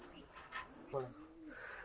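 Pigeons coo softly in a loft where females are being shown, with low, faint throaty calls in short bursts over quiet background noise.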